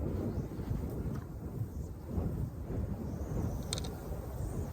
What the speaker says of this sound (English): Why is it so gosh darn windy?